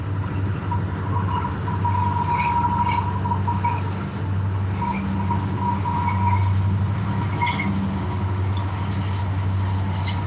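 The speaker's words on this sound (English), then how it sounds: "Those engines on those trains can be loud," Loud train engines passing near a carp-fishing spot, a steady rumbling drone with rail clatter and faint wheel squeal running throughout, no talk.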